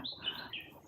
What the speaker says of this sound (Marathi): झाडं असल्यामुळे काय होतं आहे की पक्ष्यांचा मस्त असा आवाज येतो आहे